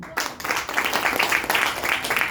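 Audience applause at an Indonesian talk on debt and riba, a dense, steady wash of many hands clapping that fills the whole moment without talk over it.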